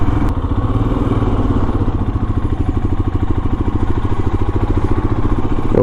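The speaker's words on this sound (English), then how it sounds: "Oh, I just pulled away in second gear." A Royal Enfield Himalayan motorcycle pulling away in second gear on a London commute, its single-cylinder engine thumping loud and close in a steady, even rhythm throughout.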